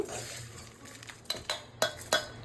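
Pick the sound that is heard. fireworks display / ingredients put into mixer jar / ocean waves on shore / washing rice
ingredients put into mixer jar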